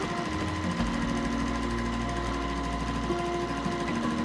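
Sewing machine stitching the final seam of a Flying Wheels quilt block, a steady continuous motor hum with rapid needle chatter running throughout at moderate level, no talking.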